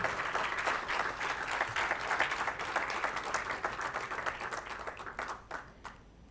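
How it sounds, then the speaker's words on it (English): A large audience applauds award-winning staff, faculty and students at a university convocation ceremony, a steady, dense roar of clapping that holds for several seconds before thinning out and fading near the end. "A big round of applause for all the staff, faculty, and students who have won the awards."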